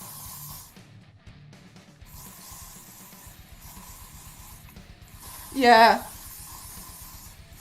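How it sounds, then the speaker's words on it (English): Short hiss of hairspray from an aerosol can, a single loud burst of about half a second near the end, after quieter moments with a brief spoken word. "Wait, this is hairspray, isn't it?"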